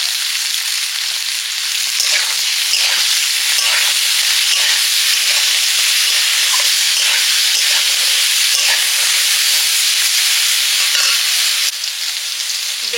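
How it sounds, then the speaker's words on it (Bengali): Eggplant frying with potatoes in a pan hisses in a loud, dense, steady sizzle, with scattered crackles and stirring bursts and no voices. "আলুগুলো প্রায় ভাজা হয়ে এসছে, বেগুন দিয়ে দিচ্ছি এবারে"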